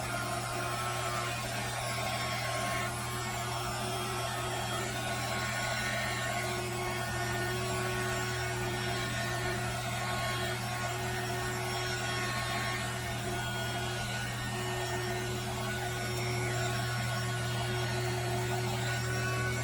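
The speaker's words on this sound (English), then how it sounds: "And then I'm going to hit it with a heat gun a lot, and we're going to really mix things up" A heat gun blows over alcohol ink, giving a steady, even whirring hum with a constant motor drone that runs unbroken and fairly close, with no voices.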